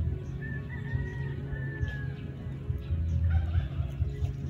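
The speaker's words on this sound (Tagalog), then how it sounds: "Ayun, yung pabo. Tumawa yung pabo." A turkey calls over a low rumble of background noise near Taal Volcano, a thin drawn-out call early on and rough gobbling noises near the end.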